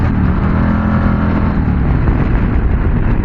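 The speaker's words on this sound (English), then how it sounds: "I hit the rev limiter" A Harley-Davidson Fat Boy motorcycle engine held at its rev limiter, a loud, steady, close-up V-twin roar with a dense, buzzing exhaust note and no letup for about three seconds.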